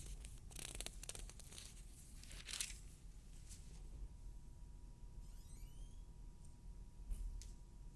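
Paper rustles and crinkles softly as book pages are turned during a Bible reading, with faint scattered swishes and crackles in a quiet room.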